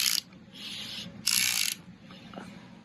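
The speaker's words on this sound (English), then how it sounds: "you grab yourself your ratchet and you give this thing a twist all the way around" Socket ratchet clicking in two bursts while tightening bolts on a GPI VVT delete cover for a Gen 5 LT engine, crisp close ratcheting with a quieter pause between strokes.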